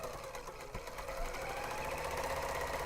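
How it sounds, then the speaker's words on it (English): A serger overlocker runs steadily, stitching and trimming the edge of fabric for grime guards, a dense continuous mechanical whir with fine rapid chatter, close and even, with no voices. "I also really like the sound of the serger when it's running correctly"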